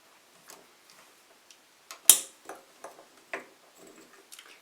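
A Delta single-handle faucet handle is loosened with the small wrench from a rebuild kit: sparse, light close-up clicks and taps, with one sharp metallic snap partway through, in a quiet room.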